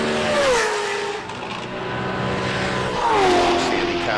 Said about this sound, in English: Outstanding cars, aren't they? As they scream down the fastest part of the circuit here.